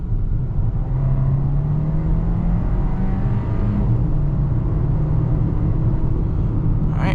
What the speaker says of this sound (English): I like to get it up to 25 and just kind of hit the throttle and see what happens